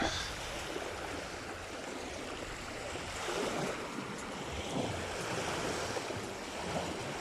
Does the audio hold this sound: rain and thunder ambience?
no